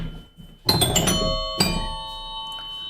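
Homemade pinball chimes mounted on a Gottlieb chime mechanism ring out as two struck bell tones, the first a quick cluster and the second about a second later, each leaving a clear lingering ring that slowly fades.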